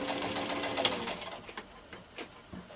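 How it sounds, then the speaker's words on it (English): A Singer 1591 sewing machine runs under foot-pedal control with a fast, even mechanical whir and needle chatter, fairly close and moderately loud, which tails off toward the end. "we'll go ahead and step on the foot pedal and let's sew a little bit"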